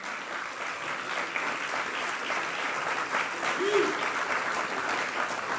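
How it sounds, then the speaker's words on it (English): Graduation audience applause at an East Hartford school ceremony, a broad, continuous clapping from a large seated crowd, steady and moderately distant, swelling slightly near the middle. "So give yourselves a round of applause."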